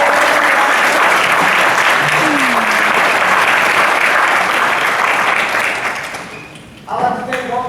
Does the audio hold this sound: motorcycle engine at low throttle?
no